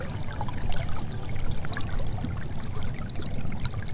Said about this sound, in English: Let's listen carefully to the sound the river is making.